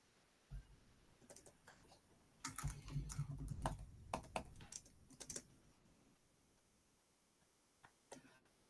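Irregular bursts of keyboard typing, quick clustered key clicks with pauses between, fairly close and quiet over a soft background hiss.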